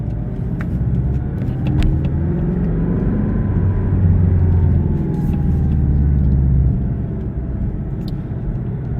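A new Porsche Cayman S engine with sport exhaust on rumbles low and steady, swelling briefly in the middle as if revving, with a deep exhaust drone; no voices.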